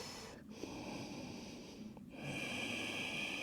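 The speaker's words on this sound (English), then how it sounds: "Sound of the breathing. Trying to make it as soothing and as oceanic-like as you can." Slow, deep breaths close by, each a long airy rush with a soft rasp, pausing between inhale and exhale.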